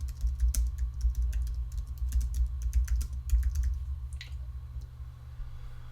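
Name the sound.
typing on a computer keyboard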